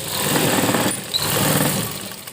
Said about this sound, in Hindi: और इस तरह हम इस पर भी सिलाई लगा